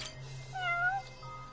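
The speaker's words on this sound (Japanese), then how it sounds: "お、こんなとこに猫がいるぞ。" A single clear meow from a cat in the video game Judge Eyes rises and falls over about half a second, heard over a low steady background hum.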